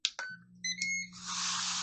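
A Ninja Foodi control panel gives a few short electronic beeps in quick succession, followed by a sustained higher tone as the unit starts, close and clear with no talking.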